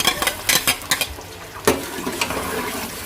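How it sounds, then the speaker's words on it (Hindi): Chopped large onion in half a cup of oil sizzles in a pan, close and loud, with repeated scraping and clinking of a spoon stirring against the pot. "दो से 3 मिनट मैं इसको फ्राई कर लूँगी, जो कि प्याज है वो हल्का ब्राउन हो जाए।"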